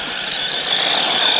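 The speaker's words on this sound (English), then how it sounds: "Got some full throttle there" A Desert Journey RC car runs at full throttle on dirt, its motor giving a continuous high buzzing whine, steady and moderately loud, with no voices.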